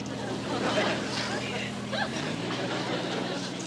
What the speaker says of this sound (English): Stalled engines seem to be working all right now, McHale.